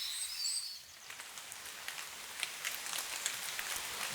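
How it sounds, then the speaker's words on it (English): Rain falls on branches and leaves in a deep forest ambience in the video game Kingdom Come: Deliverance 2, a soft hiss of scattered drops pattering unevenly, with a faint bird chirp early on. "Over this sound, other rain sound plays over. So you hear like the drops hitting branches and leaves."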